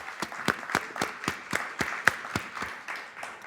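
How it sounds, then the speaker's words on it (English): Steady applause from an audience at an awards ceremony, with a few sharp, distinct claps standing out near the front in a fairly regular rhythm. "One more round of applause."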